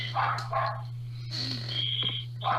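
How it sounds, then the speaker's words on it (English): A small neighborhood dog barks outdoors a few times at a distance, short yips spaced apart over a steady low hum, with no talk. "It's a little neighbor dog."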